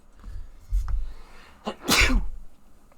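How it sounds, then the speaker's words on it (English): A single loud, close sneeze bursts out about midway, preceded by a softer sharp intake and some low rumbling handling noise, with no talk around it. "I do still be sneezing though"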